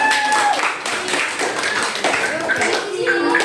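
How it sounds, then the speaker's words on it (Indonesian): Classroom of students clapping their hands in a brief burst of scattered, fairly close claps, with voices talking over it. "Kita tepuk tangan untuk mana ini dulu, tepuk tangan."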